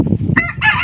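Chickens and ducks on a village duck farm give short, close clucking and crowing-like calls in two bursts over a steady low farmyard murmur, with no talking.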